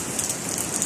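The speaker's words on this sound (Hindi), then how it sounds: "लाहौर में बारिश बहुत तेज़ हो रही है।" Heavy monsoon rain pours down in Lahore, a steady, dense hiss of drops striking wet surfaces, loud and continuous, with no talk.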